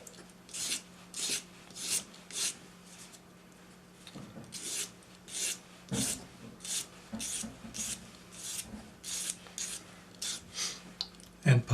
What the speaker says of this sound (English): Take your sanding stick to get the file marks off.